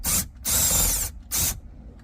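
A socket wrench removes a bolt from the dash of a 2013 Toyota Prius with three quick ratcheting bursts, the middle one longest, close and fairly loud.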